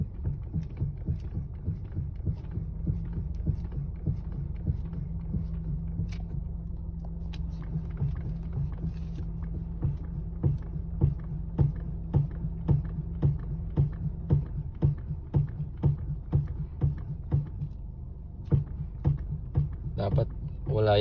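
The steering of a Honda HR-V makes a fault noise as the wheel is turned back and forth: a rapid series of close knocks and creaks repeating over a low engine hum.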